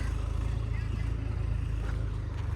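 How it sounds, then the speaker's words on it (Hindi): A tractor carrying a load of bricks rumbles close by with a steady low engine drone that holds throughout, while people talk over it. "अभी आ गया है ईंट का ट्रैक्टर, देखिए।"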